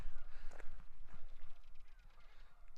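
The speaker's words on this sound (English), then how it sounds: "Hear them quacking away." Ducks honk and quack repeatedly at a moderate distance by a creek, a busy chattering flock calling over outdoor background noise.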